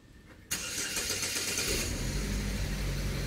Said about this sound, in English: he wants to start up his car right now